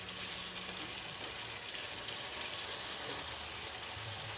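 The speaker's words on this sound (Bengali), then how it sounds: "এবার আমি জল দিয়ে দেবো।" Steady, fairly quiet sizzling hiss of chicken kosha frying in oil in a pan as water is added, an even crackling wash throughout with no talk.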